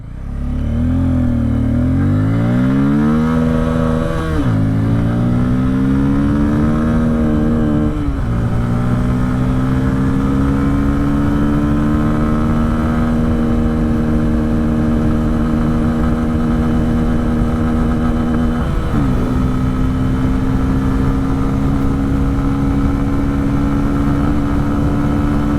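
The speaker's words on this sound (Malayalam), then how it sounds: "ഓരോ ഗിയറിലുള്ള ടോപ്പ് എൻഡ് ജസ്റ്റ് ഒന്ന് ടെസ്റ്റ് ചെയ്യാം." A 2024 Bajaj Pulsar N250 motorcycle accelerates hard through its gears toward top end, each loud, close engine note rising steadily before dropping at a shift, with several shifts and a long final climb under wind rush.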